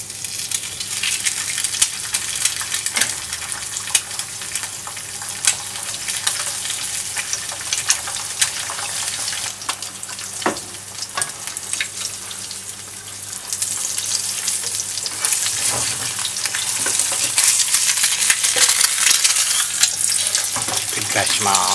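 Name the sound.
eggs frying in oil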